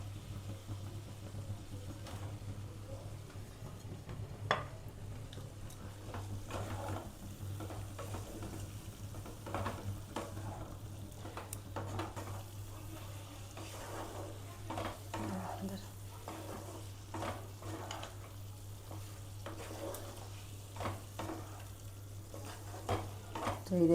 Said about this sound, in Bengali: একটু মশলার সঙ্গে ভালো করে কষিয়ে নেব।